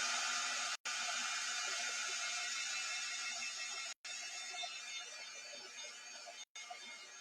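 Hair dryer blows steadily on a chalk-decorated ornament in a craft setting, a constant whir broken by three brief cutoffs.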